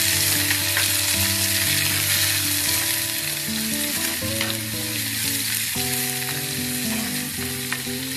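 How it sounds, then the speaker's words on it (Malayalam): Onion, curry leaves and mint fry in an earthenware clay pot for a Kerala beef curry, a steady close sizzle with stirring scrapes throughout and faint musical tones running underneath. "ഒരു ചെറിയ സവാളയും കറിവേപ്പില രണ്ട് തണ്ട് കറിവേപ്പില ഒരു തണ്ട് പൊതിന ഇലയും ചേർത്തി കൊടുക്കാം നന്നായി ഇളക്കി കൊടുക്കാം"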